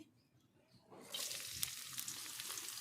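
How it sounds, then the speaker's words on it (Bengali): Chopped garlic and green chilies hit hot mustard oil and break into a loud, steady sizzle after a quiet start, continuing close and unbroken. "এবার এটা কিছুক্ষণ ভেজে নেব।"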